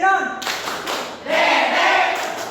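A group claps hands together in a rhythmic clapping chant at a small class meeting, with voices joining in. The claps are loud and close, and the clapping carries on steadily after a brief opening tone.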